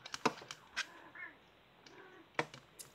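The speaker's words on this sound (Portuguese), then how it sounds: "Minha gata aqui, chamando vocês pra dormir." A house cat gives two soft, short meows at close range, mixed with a few sharp light clicks and taps in an otherwise quiet indoor room; nobody speaks.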